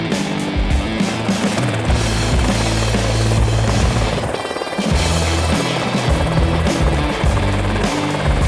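A loud helicopter drones steadily overhead, its rotor thumping and engine roaring without a break, with a brief dip in the noise midway.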